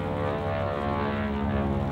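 World War II-era propeller airplanes drone steadily overhead, a loud, continuous engine hum with no gaps and no talking.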